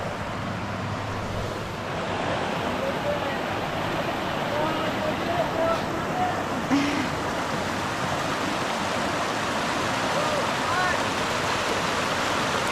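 Hikers ford a river in Maine's 100 Mile Wilderness, with flowing water rushing steadily and loudly close by, a continuous broadband wash that never lets up.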